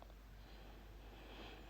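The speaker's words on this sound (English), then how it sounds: "Sorry, I'm sniffing." Several faint, breathy sniffs close to the mic aboard the Golden Horizon sailing ship, repeated quickly over a steady low background hum with no talking.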